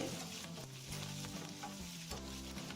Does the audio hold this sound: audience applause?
no